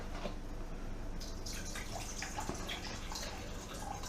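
Vinegar trickling and splashing into a pot on an old-fashioned stove while cooking a fish catch, a steady watery pour running close and continuous under faint background noise.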